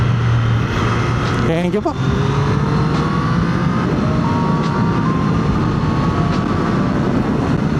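A Triumph Street Triple 765 motorcycle on a track revs up, its engine pitch climbing in rising sweeps under steady wind and road roar, with a brief warble near the start and a short spoken remark.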